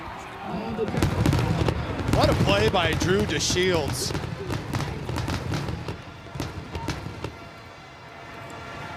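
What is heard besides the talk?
fireworks after a touchdown in a college football video game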